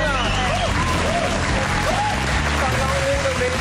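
A television talk-show studio audience applauds in a steady, dense wash of clapping, with a voice speaking over it throughout.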